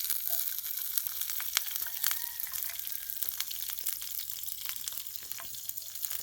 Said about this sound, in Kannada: ಈಗ ನಾವು ಚಿಲ್ಲಿ ಹಾಕೋಣ, ಗ್ರೀನ್ ಚಿಲ್ಲಿ.